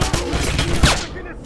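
Machine gun suppressing fire in the 2009 PC shooter Wolfenstein, a dense sustained clatter of rapid shots with a sharper burst near the end, loud and close with battle noise throughout.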